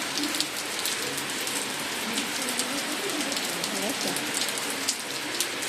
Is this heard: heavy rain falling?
yes